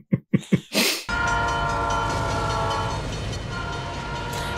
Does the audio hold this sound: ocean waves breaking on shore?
no